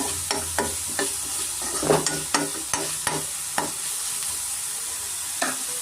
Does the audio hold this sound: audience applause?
no